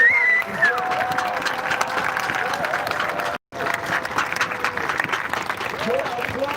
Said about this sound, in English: Your applause does nothing to save lives.